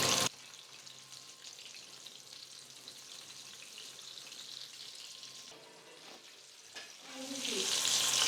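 Sweet bonda fry in oil and are stirred, a soft continuous sizzle with occasional scraping that swells louder toward the end.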